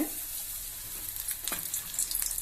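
Batter-coated agathi flowers sizzle in hot oil for agathi poo bajji, a steady bright hiss with a few soft splashes and clinks near the end, close and moderately quiet with no talking.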